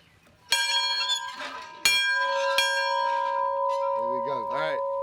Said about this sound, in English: No paperwork, just ring the bell.